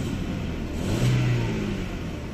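A Hyundai Solaris sedan with high mileage and no catalytic converter idles with a steady low engine drone, then revs briefly and settles back, heard close up with no talking.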